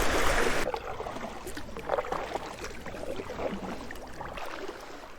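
A kayak moves through shallow river rapids on the Chattahoochee. Rushing, gurgling water and splashes sound close, with a brief loud burst at the start that eases into uneven sloshing.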